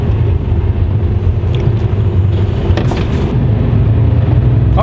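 A heavily loaded truck pulls away slowly, its engine a steady, heavy low rumble that drones on under road and wind noise from inside the cab.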